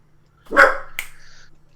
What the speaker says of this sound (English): my dog's starting to bark